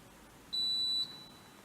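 A pellet stove's control panel gives one clear, high electronic beep lasting about half a second when its power button is held, sounding alone against a quiet room.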